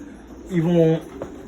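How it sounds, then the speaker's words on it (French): A pigeon in a newly installed loft gives a single close, clear coo lasting about half a second. Quieter ambient sound and a small click follow it. "Nos pigeons ils sont dedans, voilà, donc ça fait plaisir."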